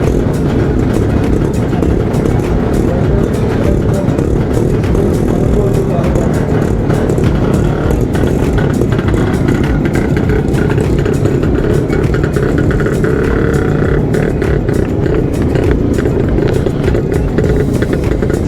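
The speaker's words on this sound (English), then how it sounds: "And you see all the big bikes going ahead" Classic and vintage motorcycles roll past during a Sunday morning XP 100 bike rally, a dense continuous rumble of engines close by, loud and unbroken, with crowd chatter mixed in.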